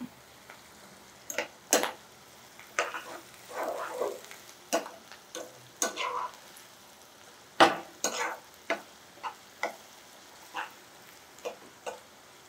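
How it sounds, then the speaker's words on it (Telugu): Curry leaves and green chillies go into hot oil and crackle and sizzle in brief, sharp bursts, with scattered pops and stirring clatters fading in and out, close and fairly quiet. "కొంచెం కరివేపాకు వేసుకుందాం,"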